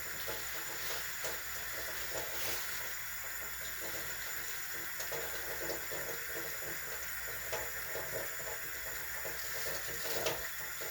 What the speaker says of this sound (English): And I'm letting the water run.